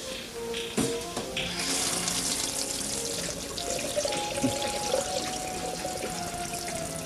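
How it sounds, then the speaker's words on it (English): A tap runs steadily, water pouring and splashing into a vessel after a brief knock at the start. "I'll just put some water in."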